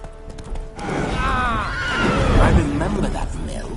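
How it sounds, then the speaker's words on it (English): A spooked horse in The Witcher 3 neighs in a loud, wavering whinny over the clip-clop of hooves, with voices talking around it. "Spooking my horse. Roach doesn't like ghosts."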